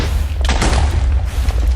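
A TNT blast in Minecraft with the SevTech Ages modpack lands as a short, loud boom with a heavy low thud and a burst of crackle, then quickly fades into rumble.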